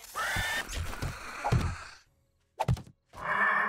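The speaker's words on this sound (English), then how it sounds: "They're destroying the ladder underneath me." Monsters in the 7 Days to Die Wild West mod smash at a ladder, heavy close thunks and whacks mixed with guttural groans and growls, in bursts separated by a brief silence.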